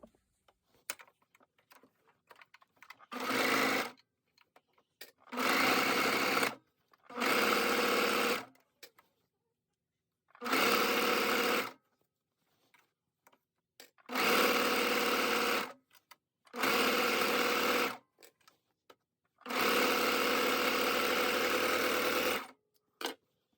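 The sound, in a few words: serger overlock machine sewing fabric onto joggers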